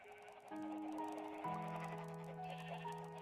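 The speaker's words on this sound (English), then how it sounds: "These sheep are eating a lot of grass." Sheep in the Minecraft video game bleat in a run of clear, bright, overlapping calls that sound close and steady, with game ambience behind them and no talking.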